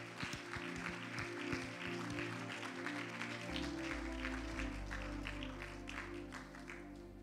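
A church congregation claps steadily throughout, with music and a voice carrying on underneath the applause.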